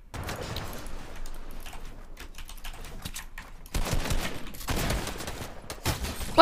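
Gunfire in a Fortnite build fight: sharp bursts of shots crackle at first, then thicken into louder rapid volleys in the second half, close and dense with no talking.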